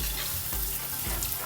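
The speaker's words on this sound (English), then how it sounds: "when you do run water through your system, make sure you spray down into the lace" Tap water runs and sprays onto a lace hair system being rinsed of soap and glue residue, a dense, close splashing hiss that stays steady through a brief moment.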